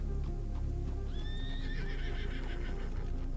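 Horses in the WildRP western game whinny with a rising neigh over a steady bed of hoof clip-clop and ambient noise, fairly close and continuous with no talking.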